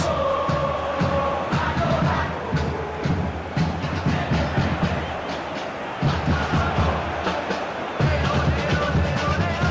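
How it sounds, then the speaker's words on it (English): A stadium crowd in a virtual football video game roars and cheers steadily for several seconds, a dense, loud wash of massed voices. "the crowd clearly like what they just saw"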